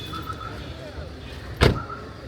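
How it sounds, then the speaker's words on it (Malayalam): A car being parked at an airport parking area, low idling rumble with soft mechanical whirs and a sharp thump like a door or window movement partway through, fairly close. "നമ്മള് കാറ് പാർക്ക് ചെയ്യാൻ വേണ്ടിട്ട് പോവാണ്"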